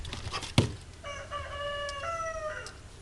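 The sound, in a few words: rooster crowing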